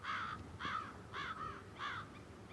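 Crows caw in the stealth game Hitman 3, four evenly spaced harsh calls ringing out clearly with no voices over them.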